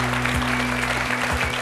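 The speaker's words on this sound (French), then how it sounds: "Je vous demande de les applaudir très chaleureusement, Sarah et Édouard." A live French stage-show audience applauds warmly for a telepathy act, steady dense clapping throughout with a low hum underneath.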